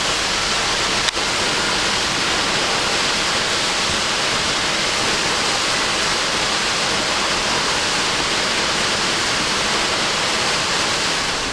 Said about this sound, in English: It's more Trabuco Creek. It is raging.